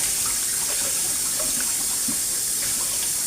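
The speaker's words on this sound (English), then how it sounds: "just put some water in a basin and wash from there" Vegetables being washed in a basin of water, with steady splashing and running water, loud and close, continuing without break and no voices.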